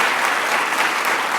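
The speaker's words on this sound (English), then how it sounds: "Let's give our mayor of Cohoes another round of applause." An audience applauds at a government announcement event in Cohoes, New York, producing a dense, continuous burst of clapping that is loud and sustained without pause.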